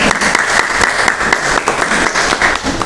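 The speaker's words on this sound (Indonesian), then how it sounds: "beri tepuk tangan untuk kelompok 3" Audience in a classroom applauding a student group, dense steady clapping from many hands, loud and close, lasting a few seconds.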